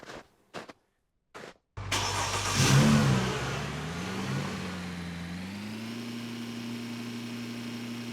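A pickup truck in the game Snow Plowing Simulator starts up after a few door-like thuds, its engine revving up loudly, then settling into a steady mid-pitched drone that rises in pitch as it drives off.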